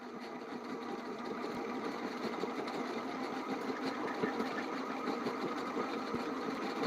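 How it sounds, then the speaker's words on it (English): Braided line is spooled onto an old Penn Senator 12/0 fishing reel, giving a continuous mechanical whirring with a faint ticking texture. It is steady and fairly quiet, without pauses. "I am sitting here spooling a 12-aught old school pin senator with the braid that we stripped off of it"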